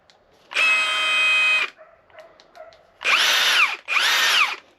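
A new Milwaukee impact gun runs in three bursts: one long whirring run, then a pause with faint clicks, then two shorter close, loud bursts with rattling impacts.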